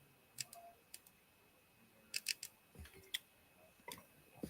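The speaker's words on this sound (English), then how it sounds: "I apologize for that clicking sound" Faint, irregular laptop clicks, a few sharp ticks scattered alone over quiet background during a Crystal Palace versus Nantes pre-season watchalong stream.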